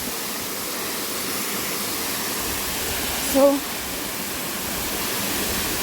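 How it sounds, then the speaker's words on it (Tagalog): Ng Tung Chai waterfall roars steadily as water rushes down from the main falls, a loud, continuous broadband wash with a person speaking briefly over it. "Dito nang gagaling yung tubig sa main falls."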